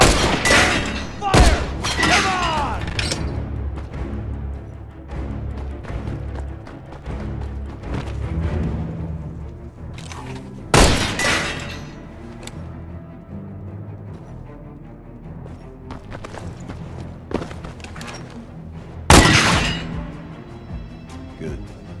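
Gunfire in the Beyond Two Souls video game: loud, booming shots and bursts break out repeatedly over a dense bed of game music and effects, with voices calling out between them.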